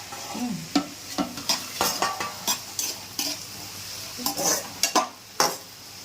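Mango pickle mixture is stirred in a pan with a spoon, giving a series of sharp scraping clinks in an irregular rhythm, close and fairly quiet, with no talk.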